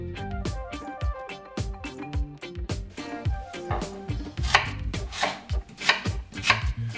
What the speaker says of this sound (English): I'm gonna start cutting my yam.